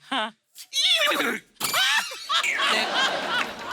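On a comedy stage, a performer's voice imitates a horse's neigh in a short, wavering whinny, followed by more voiced noises, shouting and audience laughter.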